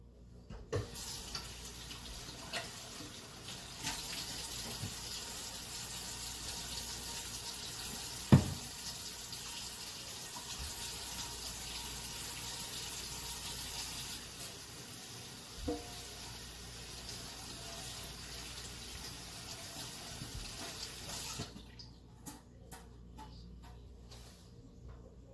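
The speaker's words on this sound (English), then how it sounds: "So, let's wash our hands." Hands scrubbed under a steadily running kitchen tap before cooking, a continuous close stream of water lasting about twenty seconds with a couple of brief knocks, then cutting off near the end.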